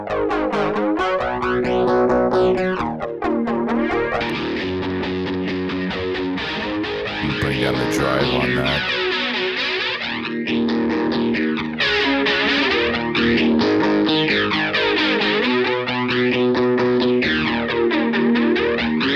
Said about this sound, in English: and just listen to the stomp box.